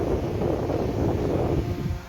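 An electric fan fitted with a replacement motor runs at its second speed, a steady close whooshing drone without pause, no talk over it.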